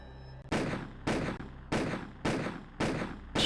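Gunfire in the video game Harvester comes as five loud, evenly spaced shots about half a second apart, each with a booming decaying tail, close and alone with no talking.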